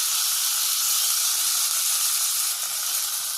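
Tomatoes dropped into a hot pan with onion, green chili and curry leaves, giving a loud, steady close sizzle and hiss that holds unbroken throughout.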